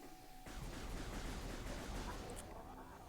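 A burst of rapid gunfire crackles in a dense volley for a couple of seconds in Metroid Prime Remastered, loud and close, with no voices.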